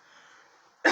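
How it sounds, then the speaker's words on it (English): A single short, sharp cough bursts out near the end after near silence, close and loud. "it's just a cough"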